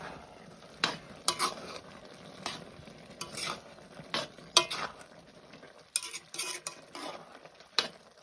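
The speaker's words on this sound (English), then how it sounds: "we can mix the pumpkin. Getting soft now." Soft pumpkin being stirred in a pan, with irregular scraping and clacking strokes of a utensil over a faint background sizzle, close and moderately loud with no talking.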